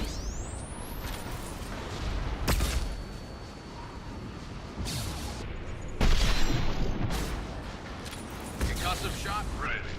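Flashbang blasts and gunfire in a Mass Effect 2 firefight, a steady roar of shooting broken by heavy booms, with voices calling out over the combat.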